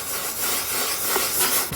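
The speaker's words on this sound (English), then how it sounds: "just lightly, not a lot of heat, just lightly rubbing" Light rubbing over stickers on an FlightLine 1700mm F7F Tigercat model plane, a close, soft continuous scuffing hiss lasting under two seconds, with no voice.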